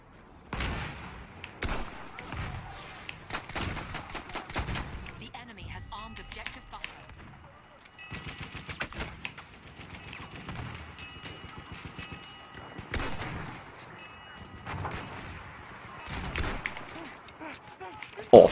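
Bursts of Battlefield 1 gunfire, sharp repeated shots in quick volleys scattered throughout, with an excited voice talking over the action.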